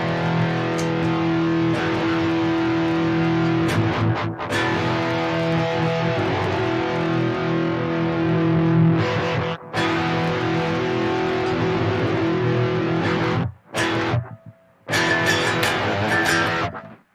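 An electric guitar plays the riff of The Black Keys' "Lonely Boy" with slap-back delay in a basement, a loud, distorted, steady strummed pattern that runs on and then breaks into short stabs with gaps near the end.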